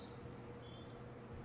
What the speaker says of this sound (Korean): 새소리를 한번 플레이해 볼게요.